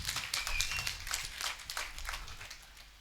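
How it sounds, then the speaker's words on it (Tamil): Mourners gathered at a memorial for Mrs. Anthoniyammal clap in scattered, uneven bursts, close and moderately loud, the claps rising and thinning over a few seconds with no speech on top. "கைத்தட்டுங்க."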